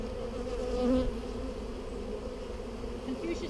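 Agitated bees swarm around a disturbed, opened lower hive part, a dense steady buzzing hum close by that fills the whole clip, with a brief louder swell near the start.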